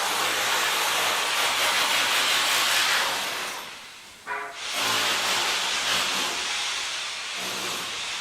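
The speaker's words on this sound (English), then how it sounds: "Okay, sorry for the construction noise." Construction noise in a street in Jaffna, Sri Lanka: a loud, continuous hissing roar like a jet of steam or air, briefly dropping off once before resuming, heard close and steady throughout.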